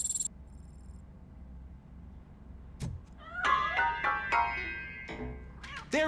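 A cat meows several times inside a piano in the video game RoboCop: Rogue City. The cries are drawn-out and close, spread across the second half over a quiet, low ambient hum.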